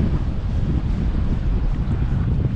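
Strong, steady west wind blowing at sea, a loud continuous roar and buffeting across the microphone, with waves and choppy cross-sea churning underneath, no voices.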